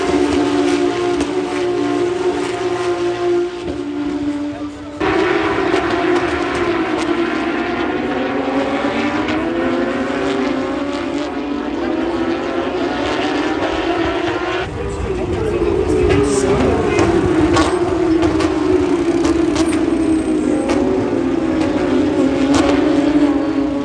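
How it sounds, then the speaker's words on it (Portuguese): Porsche Cup Brasil race cars tearing past on track, loud high-revving engine whines sweeping up and down in pitch as they pass, with talking over them. "Passe carro, olha lá."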